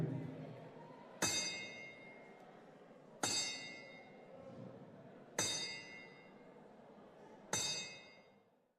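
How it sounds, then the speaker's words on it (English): Ten-bell boxing tribute rung in memory: four clear, evenly spaced metallic bell strikes, each ringing out and decaying before the next, in a hushed room. "please be upstanding as we ask Andrew Dizzer to observe boxing's traditional 10 bells for the memory of Oliver Harrison"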